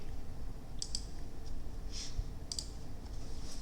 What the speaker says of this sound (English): While DT is spending eternity typing out a paragraph to explain to me how to pronounce this name